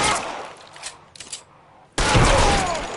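Gunshots in the crime video game L.A. Noire during a close-quarters fight, a loud burst of fire up front, a short lull with scattered cracks, then a sudden heavy volley.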